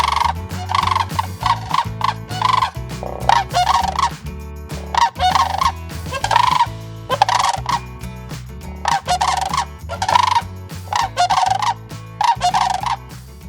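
Sandhill cranes at the Howell Nature Center call in loud, rolling bursts that repeat every second or so, close and steady with no talk.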